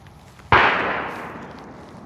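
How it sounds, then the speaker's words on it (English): A single sharp gunshot from a Tisas BR9 pistol cracks close and loud, then trails off in a short decaying echo, with no talk. "Let's give a couple shots."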